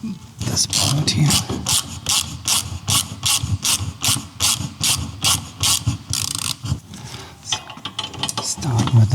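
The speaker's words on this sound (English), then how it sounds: "And now we have the bracket which has to come off. Take off this bolt here." Rapid repeated clicking of a ratchet wrench loosening a bolt on a CFMoto motorcycle bracket, close and loud in quick bursts of clicks, with brief talk mixed in.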